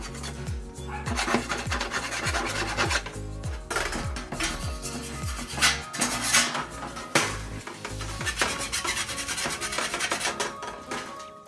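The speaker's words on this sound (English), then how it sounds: "Clean the cable tray by using file before bent in 90 degrees." A hand file rasps against a metal cable tray with repeated scraping strokes, some rhythmic and some irregular, plus the occasional clank of metal, close and steady with no talk.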